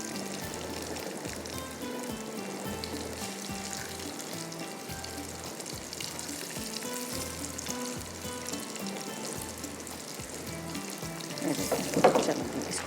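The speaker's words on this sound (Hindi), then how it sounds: "ये फ्राई हो रहे हैं नगेट्स हमारे, इसको फ्राई करेंगे" Chicken nuggets fry in a pan with a constant soft crackling sizzle, fairly faint and steady throughout, with a brief louder burst of spattering near the end.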